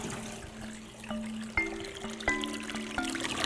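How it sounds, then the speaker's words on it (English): A freshly plugged-in water pump sends a steady flow into a gravel bed, giving a soft trickling and pouring wash with a few brief clicks and splashes, fairly quiet and close, without speech. "I just plugged the pump in."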